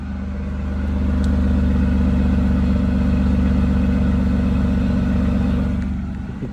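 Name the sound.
Toyota Land Cruiser 4.5 liter 1FZ-FE engine idling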